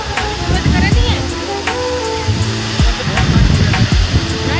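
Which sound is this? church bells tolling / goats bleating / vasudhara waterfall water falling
vasudhara waterfall water falling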